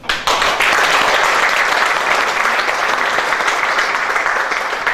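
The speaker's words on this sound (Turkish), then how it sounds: "Alkışlayalım lütfen." An audience claps steadily and densely at a gymnastics club event in Turkey, a continuous wash of applause at moderate volume that starts abruptly and carries on without a break.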